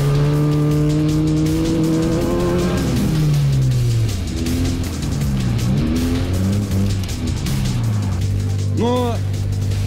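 An old Zhiguli car drives on a frozen ice race track, its engine revving up and down loudly close by as the tires slip and squeal, while people talk inside the car.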